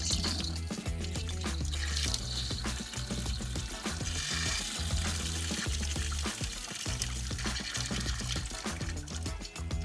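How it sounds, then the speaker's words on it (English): Water bleeding out of a pressurized PEX plumbing line at about 73 psi, a steady loud rushing hiss with splashing that runs continuously and close by, without pause. "I'm gonna bleed out my water down here"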